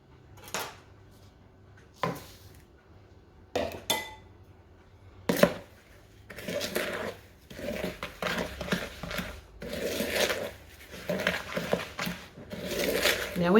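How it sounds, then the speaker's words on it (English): Coconut being stirred into a raspberry slice mixture in a bowl, with irregular scraping and clinking of a utensil against the bowl, moderately close, while a person talks. "Now we have to stir in the coconut."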